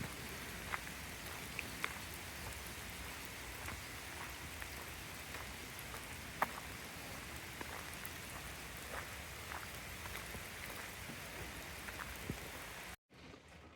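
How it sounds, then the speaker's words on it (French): Steady rain falls continuously at a camper van rest area, with scattered drops tapping on a surface over a constant hiss, then cuts off abruptly at the end. "Il a plu cette nuit, puis là il pleut, il repleut."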